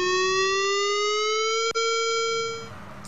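A Tulsa tornado warning siren sounds during its weekly Wednesday test, a loud sustained wailing tone that holds steady with a brief dropout and then fades as it winds down at the end.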